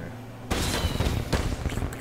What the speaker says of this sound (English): These fucking fireworks.